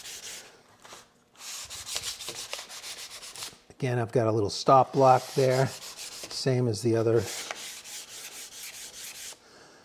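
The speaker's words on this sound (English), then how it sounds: "we're just gonna polish it up with a little sanding" Rough rubbing strokes of sandpaper on exotic wood, with someone speaking in the middle before the scratchy sanding resumes.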